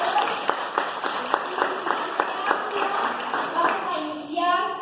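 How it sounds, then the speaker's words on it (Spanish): An audience at an expert panel on lipids applauds the panelists, a fairly close round of clapping with distinct individual hand claps standing out, and voices rising near the end as it fades. "Vamos a darle un fuerte aplauso a nuestros panelistas."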